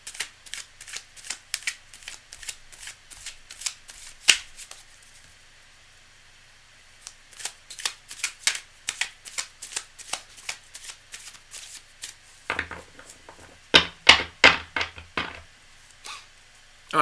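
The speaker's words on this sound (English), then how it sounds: "I'm going to do one more little mini shuffle." Tarot cards are riffled and shuffled by hand in bursts of quick crisp flutters, with a pause in the middle before a second round of shuffling, close and clear with no talking.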